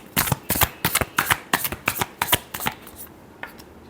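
Tarot cards shuffled by hand in a rapid series of crisp riffling bursts, about a dozen sharp flutters close up, tapering off near the end, with no talking.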